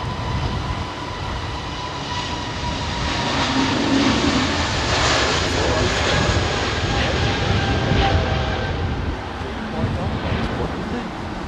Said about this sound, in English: That Air Canada triple, looking very menacing out there.